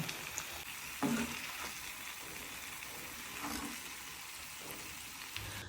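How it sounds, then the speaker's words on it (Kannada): Masala-coated white pomfret frying in a pan gives a steady sizzle, with brief louder bursts of spitting oil and a few soft clinks, heard close with no talking. "ಪಾಪ್ಲೆಟ್ ಮಸಾಲ ಫ್ರೈ ಮತ್ತೆ ಪ್ರಾನ್ಸ್ ಫ್ರೈ, ಡೀಪ್ ಫ್ರೈ"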